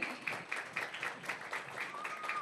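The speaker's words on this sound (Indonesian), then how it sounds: "tepuk tangannya sekali lagi" An audience applauds the wayang golek santri puppeteer Ki Haryo Entus Susmono after an award presentation in Tegal Regency. The clapping is fairly faint and steady with slightly uneven pulses and continues for a couple of seconds.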